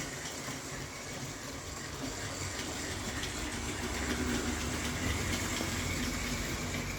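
A Hornby Tornado model train from an express train set runs along its track, giving a steady, continuous rushing rumble at low level that swells slightly as it passes.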